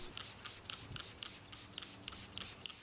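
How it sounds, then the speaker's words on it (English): Granite Gold spray-on sealer mists onto a marble table surface in about ten quick, evenly spaced hissing bursts, close and fairly quiet, with no talking. "we'll seal things up with Granite Gold's spray-on sealer"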